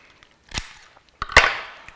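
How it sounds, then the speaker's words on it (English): Shell of a small Maine lobster being cut, heard as two sharp cracking snaps about a second apart, the second louder and followed by brief crunching rustle, with quiet gaps around them. "So I'm gonna cut this shell off"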